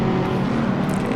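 A racing car in Assetto Corsa Competizione drives past a Ferrari, a loud, steady engine drone with a strong low hum that holds throughout, close and alone.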